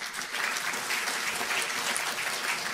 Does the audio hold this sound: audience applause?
yes